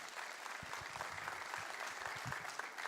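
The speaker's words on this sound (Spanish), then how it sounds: "Dele un fuerte aplauso a Dios por su palabra" A church congregation applauds, a continuous wash of clapping with some individual claps standing out nearby, fairly quiet overall.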